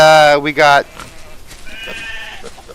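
A sheep in the video game SolarPunk gives a loud, close, two-part bleat at the start, followed by quieter, softer game sounds.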